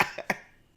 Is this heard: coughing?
yes